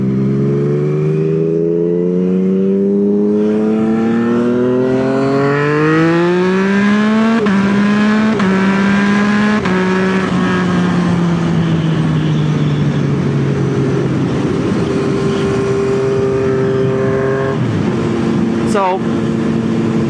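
A Yamaha MT-09 motorcycle engine revs loudly up and down, its pitch sweeping through repeated climbs and falls for a long stretch, close and dominant, with a voice talking over it.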